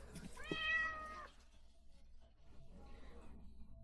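An orange cat, about two years old, gives a single clear, tonal meow up close, followed by quiet with faint background noise.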